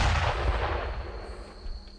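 Artillery fire and explosions in the World War II video game Brothers in Arms: Earned in Blood, a dense, rumbling barrage of overlapping booms that stays loud, then fades slightly toward the end. A bright, steady ringing tone sits above it.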